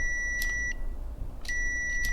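A multimeter gives a continuity beep when a budget welder's trigger is pressed: two short, clear, high tones about a second apart, each cut off cleanly.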